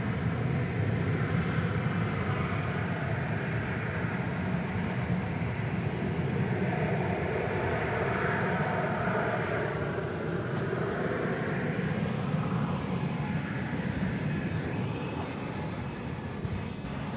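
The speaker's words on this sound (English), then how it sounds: "It's an Airbus A220." A Delta Airbus A220 airliner at Dallas Fort Worth airport, bound for Salt Lake City, gives a steady broad jet roar that holds level throughout and fades slightly at the end.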